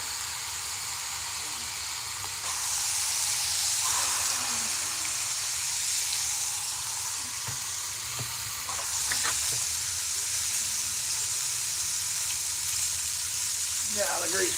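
Food frying in a deep grease pit, a continuous close sizzle that swells louder as more goes in, with faint clinks and movement.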